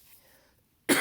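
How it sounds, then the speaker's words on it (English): A single loud, close cough bursts out abruptly at the end, after near silence, during a tarot card reading. "I'm so sorry about the coughing"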